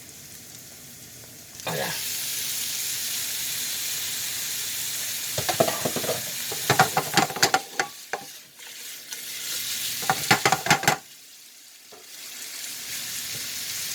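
Shrimp drop into a hot frying pan for shrimp scampi, setting off a steady sizzle with bursts of clattering stirring and scraping, fairly close; a brief spoken remark comes near the start.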